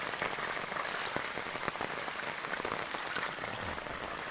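Steady rain falling during a flood in Assam, a dense continuous patter of drops on surfaces, even and fairly loud throughout with occasional sharper splashes.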